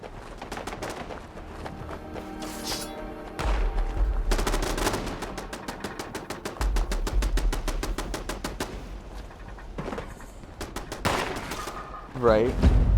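Automated defensive turrets in Fallout 76 fire at attacking enemies. Rapid bursts of gunfire rattle on and off with heavy booming thuds underneath, mixed with other game noise and occasional voices.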